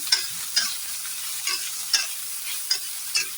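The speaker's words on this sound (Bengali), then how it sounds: "বেগুনকে আমি ভেজে এটাকে ভালো করে ভেজে নেব" Small-cut eggplant frying in oil in a wok for eggplant chutney: a constant sizzle punctuated by regular spatula scrapes and clinks about every half second.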